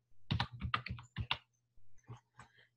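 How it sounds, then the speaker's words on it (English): Rapid keystrokes on a computer keyboard as a student number is entered, a close burst of clicks over about a second and a half, a short pause, then a few more scattered taps, with a steady low hum beneath. "I'm going to type one in."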